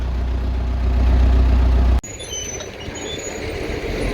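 Engine of a farm tractor heading out to sow wheat: a steady loud low rumble that cuts off abruptly halfway, then a rougher, quieter running rattle carries on.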